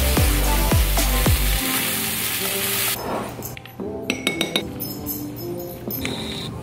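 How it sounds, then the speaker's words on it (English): Zucchini noodles sauté in a pan at home, a hiss of sizzling with utensil clinks and scraping that turns to sharper, intermittent taps and stirring after a few seconds. "tonight I'm going to saute them"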